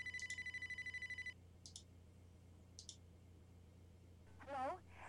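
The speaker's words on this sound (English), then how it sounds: "You hear that? Phone's ringing." An old-style telephone in the video game Amber: Journeys Beyond rings in a rapid burst of bell trills, then gives two short repeated rings after pauses, fairly faint against a low hum, with a brief warbling tone at the end.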